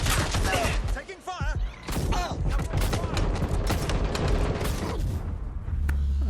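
Rapid gunfire in the Watch Dogs Legion video game crackles in dense bursts of sharp shots, mixed with mechanical clatter and voices talking over the firefight.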